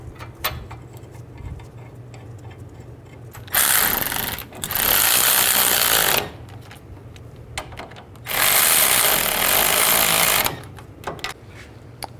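Two loud bursts from a power tool, each lasting a couple of seconds, as caliper bracket bolts are tightened on a 2002-06 Chevy Avalanche, with quieter clicks and shop noise in between.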